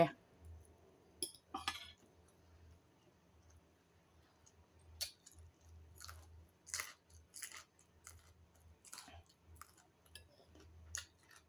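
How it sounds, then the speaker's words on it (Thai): Someone eats Thai sai ua sausage close to the microphone, with irregular wet chewing, clicks and small bites that come in bursts throughout, separated by quiet pauses. "ลองซื้อมาลองกินดูว่าไส้อั่วเป็นยังไง"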